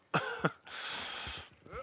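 A character in Red Dead Redemption 2 coughs and clears his throat, a few harsh bursts followed by a longer raspy hack, fairly close and alone.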